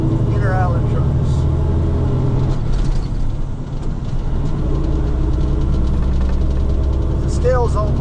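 Trucks roll into an inner island shipping terminal past a closed scale, a steady low engine rumble with idling and passing vehicles throughout, loud and close, with brief squealing brakes near the start and end.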